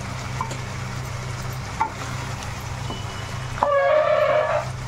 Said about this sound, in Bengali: আবার এখানে 5-7 মিনিট ভাজা হয়ে গেছে।